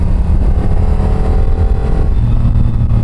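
An R7 motorcycle, an A2-licence bike, accelerating hard in second gear, with a loud, close engine drone that holds steady and continuous throughout and no talk.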